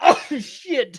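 A person sneezes once in a short, sharp burst right at the start, followed at once by a startled spoken exclamation.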